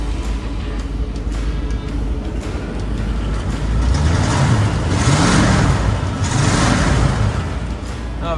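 The engine of a 1963 Cadillac Deville convertible idles steadily just after start-up, a loud, smooth low rumble that swells slightly midway with a little revving, and no one speaks over it.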